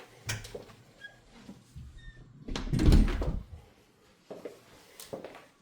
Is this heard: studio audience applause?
no